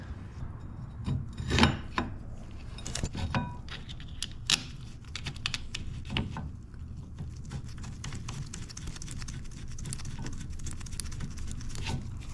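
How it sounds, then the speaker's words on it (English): Rear brake caliper being bolted back onto a Ducati motorcycle, with close scraping, rubbing and sharp metallic clicks and taps of bolts and tools, irregular and busy throughout with no talk. "Next, we're going to bolt that caliper back up underneath."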